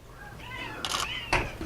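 A cat on an island where cats roam freely gives a drawn-out meow, with two short sharp clicks close by and faint voices in the background.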